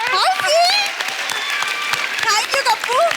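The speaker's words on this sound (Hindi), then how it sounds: "जोरदार तालियां एक बार" Audience applause at a Hindi tribute show, a steady wash of clapping running throughout, with a voice talking over the crowd.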